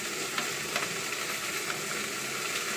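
Okra, green chili and tomato fry in a wok with a constant, dense sizzle and crackle throughout, steady and fairly loud, with no voices.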